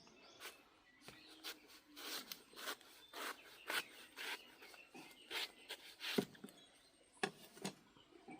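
Ice apple palm fruits (nungu) being cut with a blade, giving a run of close, dry rasping and scraping strokes in an uneven rhythm, fairly quiet with no talk.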